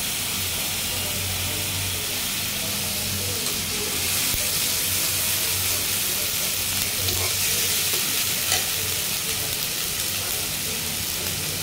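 Garlic and ginger paste fries in hot oil for biryani, giving a continuous, even sizzle and hiss that stays close and steady throughout, with no talking.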